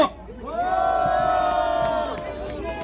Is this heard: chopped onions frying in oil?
no